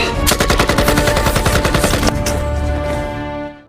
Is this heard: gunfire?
yes